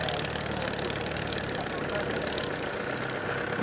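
An English Electric Wren light aircraft engine at Old Warden runs at reduced power, giving a steady, even drone with a low throb throughout and no voices.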